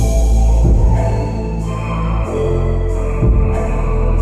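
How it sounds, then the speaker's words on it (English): A full music mix drowned in excessive reverb on every element, a loud washy blend of bass, chords and drums with long smeared tails, no distinct attacks, no talk. "you're drowning everything in reverb"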